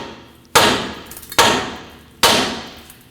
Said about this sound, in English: Now hit this with a hammer and break free that stud.